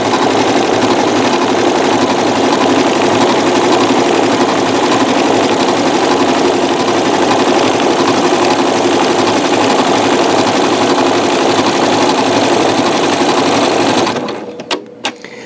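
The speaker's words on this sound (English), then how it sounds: "Now I'm sewing on my Janome MC9900" A Janome MC9900 sewing machine runs continuously, stitching metallic thread along a fabric edge against a quilting bar, a loud, fast, even mechanical whir that stops abruptly near the end with a few clicks.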